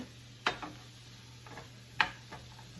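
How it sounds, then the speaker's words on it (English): Two quick, faint scraping strokes of a spoon stirring onions cooking in a pot for vegetarian meatballs, about a second and a half apart, over a low steady hum. "I'm going to give it a quick stir."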